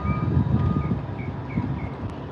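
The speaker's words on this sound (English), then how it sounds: "That diesel's pulling it right out." At a marina boat ramp, a diesel truck hauling a boat out of the water rumbles with a steady low engine drone, while a series of evenly spaced reversing beeps chirps over it.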